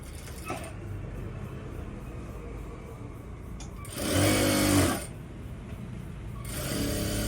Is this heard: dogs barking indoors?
no